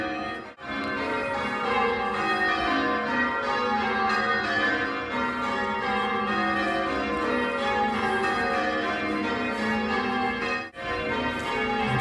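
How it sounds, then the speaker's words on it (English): Church bells peal continuously at St Paul's Cathedral in Dundee city centre, Scotland, a dense, steady wash of overlapping ringing tones heard outdoors from nearby, with no talking. "church bells running at St Paul's Cathedral"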